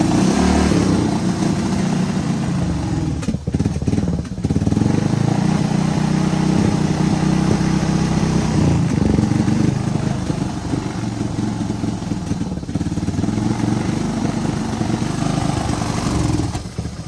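A 1978 Suzuki DR370 motorcycle engine, pulled after sitting for over 25 years, runs steadily with a rough, loud idle and slight wavering for about seventeen seconds, with no voices over it.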